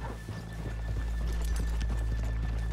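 Horse hooves clip-clop steadily on a dirt street in Red Dead Redemption 2, a continuous rhythmic trotting over a low ambient rumble, with no talk.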